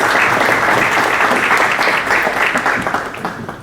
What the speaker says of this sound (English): Let us welcome her with a huge round of applause.